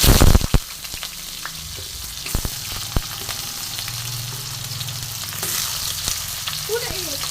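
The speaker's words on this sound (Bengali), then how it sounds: "আলুটা আমি একটু মাঝারিভাবে ভেজে নেব" Potato pieces frying in oil with bay leaf, dried chili and nigella seeds for a vegetarian Bengali greens recipe give a steady close sizzle, with a few sharp clinks and stirring scrapes early on.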